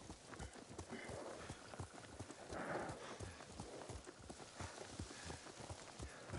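A horse in Ghost of Tsushima trots along, its hooves clip-clopping in a steady, brisk rhythm throughout, fairly close and even in level, with faint ambient wind behind.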